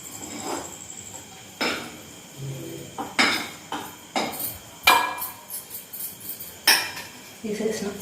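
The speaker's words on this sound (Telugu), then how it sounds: "ఇప్పుడైతే చట్నీ గిన్నెలకు తీసేసుకుందామండి మొత్తం ఇట్లా తీసేసుకొని" Tamarind leaf chutney being scooped into bowls, a series of sharp metallic clinks and taps of a spoon against steel dishes, irregularly spaced and close, with quiet gaps between.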